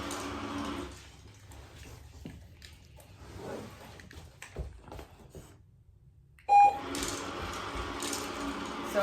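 A single short electronic marker beep used in nose-target dog training sounds once, clear and fairly loud, against a quiet room with faint rustling and no speech.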